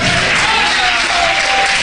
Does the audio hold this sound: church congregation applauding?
yes